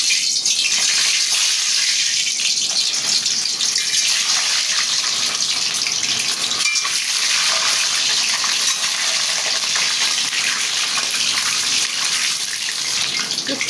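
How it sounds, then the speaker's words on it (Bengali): Duck eggs fry in hot oil in a home kitchen pan, a steady, loud hissing sizzle that runs continuously without pause. "এখন আমি ডিম কয়টা ভাজে নেব।"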